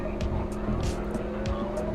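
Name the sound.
car racing on desert track in video game PAKO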